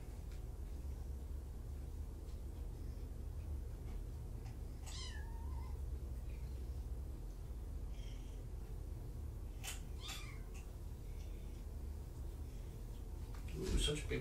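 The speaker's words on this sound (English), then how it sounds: "Ooh, such big purrs." Kittens purring in a critter room, a faint, steady low rumble that runs throughout, broken by a couple of brief, high meow-like chirps.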